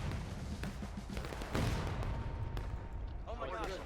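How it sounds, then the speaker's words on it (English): Cannon artillery fire during a large-scale video game battle with about 250 players, dense booming shots and blasts layered over continuous battle noise, with voices talking throughout. "Every cannon should fire on those guys."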